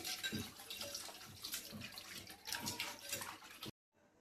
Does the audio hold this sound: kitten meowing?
no